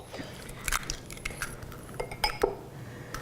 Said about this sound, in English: Crack them in a bowl